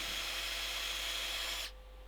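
A power drill bores out copper roughly 10 to 12 mil thick while repairing a 1976 Volvo 242 turbo. The steady, loud, close whining grind runs without a break for nearly two seconds, then cuts off abruptly.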